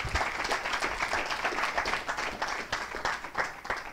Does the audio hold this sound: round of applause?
yes